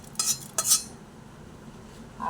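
Ingredients go into a mixer grinder bowl with two quick pairs of bright metallic clinks near the start, followed by near quiet and a faint low rumble at the end.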